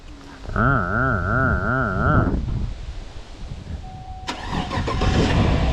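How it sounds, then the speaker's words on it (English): A Chevy truck engine cranks with a rhythmic starter whine for about two seconds, then fires up and settles into a rough idle, loud and close, with a brief tonal whine before a revving burst. "It is a Chevy, so chances are it totally won't start."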